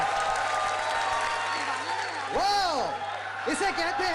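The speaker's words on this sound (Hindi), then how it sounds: "जोरदार तालियां" Applause breaks out for a singing performance on an Indian TV talent show stage, a crowd clapping under voices and whoops that rise and fall over the top.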